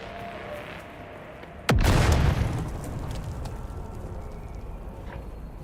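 A grenade goes off in the video game Dune: Awakening, one sudden loud boom with a heavy low rumble that fades over a couple of seconds, standing alone without talk.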